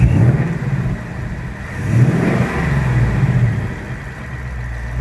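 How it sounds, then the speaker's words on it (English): A Ford Mustang Bullitt engine revs in a few deep, throaty swells, rising and falling over a rumbling idle, loud and close with no talk. "Go ahead and rev it again."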